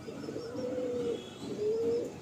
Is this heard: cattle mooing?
no